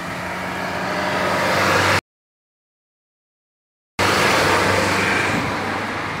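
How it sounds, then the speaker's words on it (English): A jeepney rumbles past on a road in Boracay, the Philippines, loud and close amid traffic noise, with a gap of silence in the middle. "Here's a jeepney we don't want."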